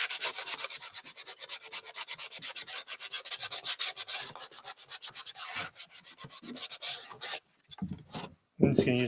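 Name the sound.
sanding the inside ledge of a thrifted dresser drawer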